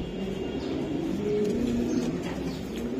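Racing pigeons coo in a club loft, soft low throaty calls repeating close by over a steady background hum.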